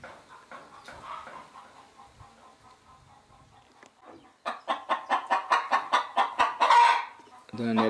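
Chickens on a small farm cluck and cackle, first softly in scattered calls, then a loud rapid run of clucks building to a squawk, close by with a brief voice at the end.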